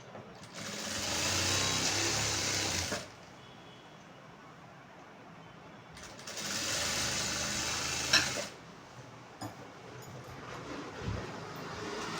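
An electric sewing machine stitching a blouse runs in two steady whirring bursts of about three seconds each, close and moderately loud, with quiet pauses between them and no speech.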